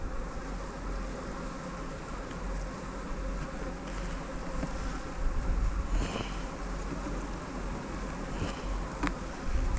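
Dense, steady buzzing of many honey bees close around a hive, a continuous droning hum with occasional louder passes near the microphone.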